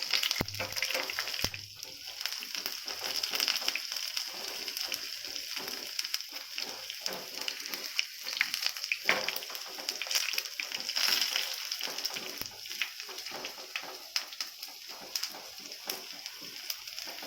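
Food fries in a pan until lightly browned, giving a steady, close, crackling sizzle that runs unbroken throughout with faint spatter pops.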